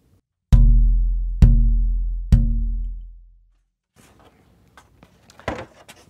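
Three evenly spaced knocks on a double top guitar soundboard plate ring out with a resonant low decay, followed by faint handling rustles and small clicks.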